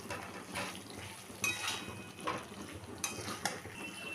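A spoon scrapes and clatters in a pan as fried eggs are stirred into masala, soft intermittent knocks and scrapes over a faint sizzle, close by and fairly quiet.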